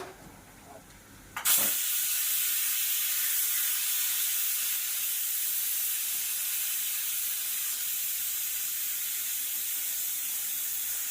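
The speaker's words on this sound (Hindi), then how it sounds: "अभी ये इसकी ना स्टीम निकाल के भी देख लूंगी दाल की क्या सिचुएशन है" Steam hisses out of a pot of cooking dal in a sudden burst after a second of quiet, then keeps up as a loud, steady, close rush of broadband noise with no talk.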